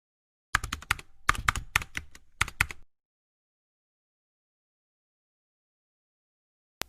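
Typing on a computer keyboard: several quick bursts of crisp key taps, close and clear, then a long silence with one last click at the very end.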